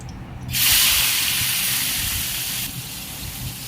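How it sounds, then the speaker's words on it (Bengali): Turmeric and salt marinated fish dropped into hot oil in a wok, setting off a sudden loud, broad sizzling hiss that holds steady for about two seconds, then eases to a softer continuous frying crackle. "তেল গরম হয়ে গেছে, মাছটা দিয়ে দিব"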